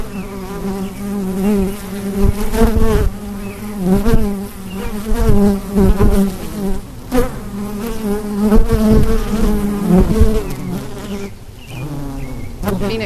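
A dense swarm of bees hums and buzzes continuously at close range, a steady layered drone with shifting pitch and no talking.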